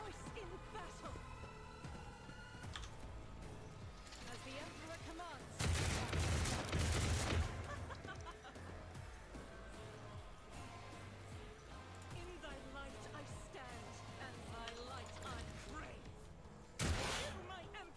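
Stub gun fire in the Warhammer 40K Rogue Trader video game: two loud, dense bursts of rapid shots, one lasting about two seconds and a shorter one near the end, over a steady bed of game music and voices.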